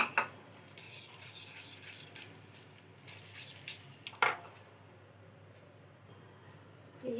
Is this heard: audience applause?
no